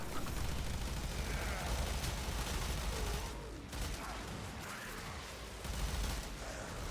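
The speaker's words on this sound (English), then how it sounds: "Let's hear that Morsey again." Sustained dense weapon fire from the Morsey in the Warframe video game, a continuous crackling barrage of rapid shots that eases briefly midway and then picks up again, with no talking.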